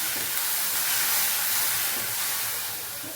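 Sautéing in ghee in a pan on the stove for a Tamil sundakkai thuvaiyal, a steady broad hiss and sizzle that holds close and even, then eases slightly toward the end, with no talk.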